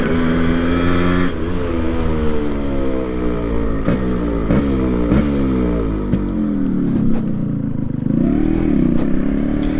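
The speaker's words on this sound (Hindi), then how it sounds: "135 का एग्जॉस्ट इजीली मिल जाता है और उसके अंदर उसने कट वाला डिविकलर लगाया तो कुछ ऐसा साउंड करता है ये" A Yamaha RX100 motorcycle with a 135 exhaust and a cut silencer revs loudly and close, its raspy two-stroke note rising and falling through several throttle blips over a constant idle.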